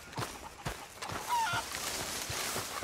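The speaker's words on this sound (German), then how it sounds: "Die Hühner." Farmyard fowl in Red Dead Redemption 2 cluck and honk in short, faint calls repeated irregularly at a campsite, with ambient game sound underneath.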